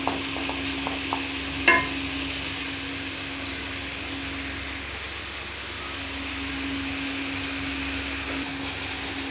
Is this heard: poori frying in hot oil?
yes